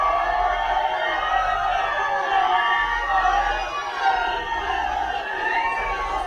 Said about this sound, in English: The King and Queen receiving a warm welcome from the crowd.